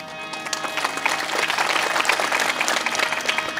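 An audience at a kirtan claps together, a dense burst of applause that builds quickly and stays loud and steady throughout.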